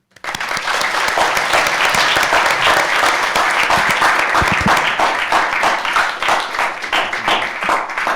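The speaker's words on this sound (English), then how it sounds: "So we applaud you again." Sustained audience applause fills a school board meeting room, dense steady clapping from many hands lasting several seconds without talk.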